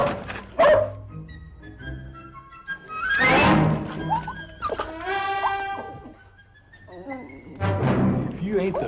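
A small dog yips and barks repeatedly at a ranch in a western television episode, with sharp close yaps and whimpering cries spread across the stretch, occasional thumps between them.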